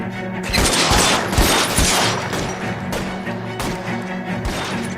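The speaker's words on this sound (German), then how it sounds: "Kleines Shootout." A shootout in the L.A. Noire video game: loud, close bursts of gunfire crack in rapid clusters, with sharp separate shots and heavy impacts spread across several seconds.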